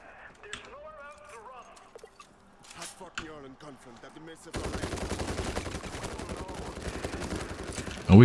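An automatic turret in World War Z Aftermath opens up with rapid, continuous gunfire that starts abruptly partway through and keeps a steady rattling pace to the end, after a stretch of talk and scattered game sounds.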